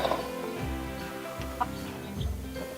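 A hen sitting on her eggs gives low, repeated clucks and murmurs close by, a steady series of soft calls with brief louder notes.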